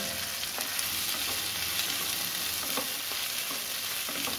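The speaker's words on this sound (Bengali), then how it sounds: "এর মধ্যে আমরা এবার যে ভিন্ডিটা আছে সেই ভিন্ডিগুলো সব অ্যাড করে দেব।" Okra frying in hot oil with asafoetida, a steady close sizzle with soft stirring scrapes running throughout, no voices.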